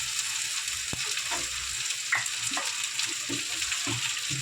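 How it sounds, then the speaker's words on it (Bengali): Spice paste fries in a pan as a little water goes in, giving a steady, loud sizzle with scattered clicks and scrapes from stirring, and no voices. "এবার দিয়ে দেবো অল্প একটু জল।"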